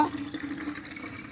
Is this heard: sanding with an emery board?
no